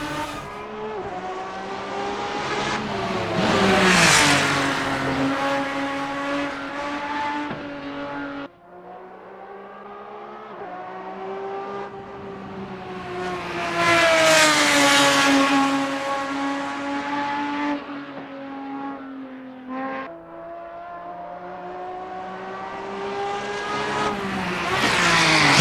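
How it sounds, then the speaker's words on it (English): A classic GT race car from the Assetto Corsa GT Legends mod pack revs hard through the gears outside, the loud engine rising and falling in pitch across several upshifts, with passes swelling close and then fading away, alone without voices. "give you guys a little bit of replay here to let you appreciate the exterior sounds"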